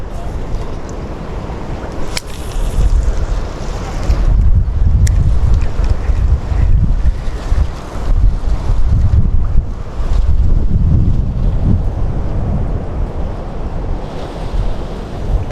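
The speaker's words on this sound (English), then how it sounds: "That wind is like 17 miles per hour is what the forecast said." Strong wind of about 17 mph buffets the microphone on a fishing boat out on open water, a steady loud roar with low rumbling gusts and waves throughout.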